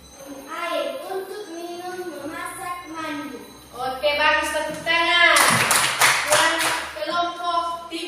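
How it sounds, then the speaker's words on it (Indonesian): Schoolchildren in a classroom clap their hands together in a burst of brisk clapping, with a teacher's voice and children's chatter running over and before it. "Bagus, tepuk tangan"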